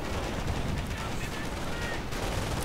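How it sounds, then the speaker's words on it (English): Mortar rounds fire and burst in a World War II real-time strategy game, a dense continuous rumble of explosions and gunfire mixed loud throughout. "Mortar rounds going down, threatening German infantry, but at the same time not so much."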